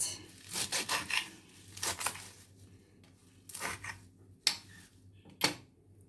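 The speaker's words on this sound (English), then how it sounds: "I'm just going to just grab them and just give them a cut." Scissors snipping the leafy tops off herbs for green Caribbean seasoning, several quick crisp cuts in irregular clusters, close and fairly quiet.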